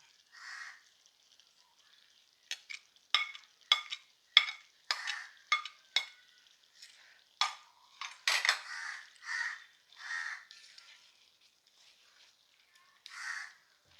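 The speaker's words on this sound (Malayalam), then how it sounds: "ക്യാരറ്റും കൂടെ ഇട്ട് കഴിഞ്ഞിട്ട് ഇതുമായിട്ട് നന്നായിട്ടൊന്ന് മിക്സ് ആയി" Carrots being stirred into mango pickle in a pan, a series of sharp scraping and clacking strokes from a spoon against the pan, loud and close, coming in an irregular rhythm with short pauses and no talk.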